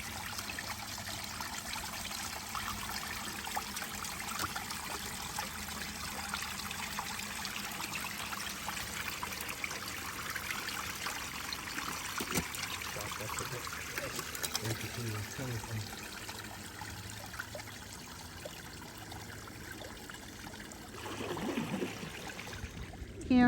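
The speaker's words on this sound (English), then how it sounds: "And look, we found a little waterfall." A small waterfall trickles and splashes steadily throughout, a continuous soft watery patter heard up close, thinning slightly toward the end.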